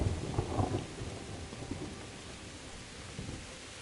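Rolling thunder with steady rain from a thunderstorm in Kingdom Come Deliverance, a low rumble strongest at the start that fades into a continuous rain hiss.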